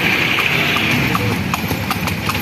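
A ten-year-old horse pulling a carriage through Manila clip-clops in a steady, even rhythm of hoof strikes, partly buried in loud, continuous street noise.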